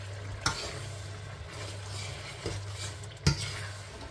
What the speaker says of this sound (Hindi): ये चने सफ़ेद ये डाल देंगे, बिस्मिल्लाह। और इनको अच्छी तरह मसाले में भूनना है।